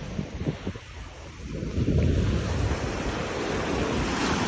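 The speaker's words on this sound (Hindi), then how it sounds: "पानी लहरें चेक करें, लहरें लहरें चेक करें जी" Sea waves and a cold wind at the shore, a steady broadband wash of surf with wind rumble buffeting the microphone, building slightly louder midway and holding, with no talking.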